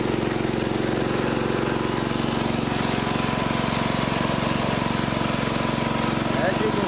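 A Craftsman riding lawn mower engine runs steadily at idle, loud and close, holding an even low mechanical drone throughout with no misses or sputters.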